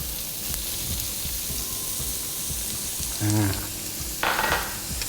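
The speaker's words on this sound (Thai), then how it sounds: "ผัดหอมใหญ่ให้หอมนะครับ" Onions sizzle steadily in a hot pan for a tuna spaghetti white sauce, a continuous close hiss with occasional stirring clatter and a brief voice underneath.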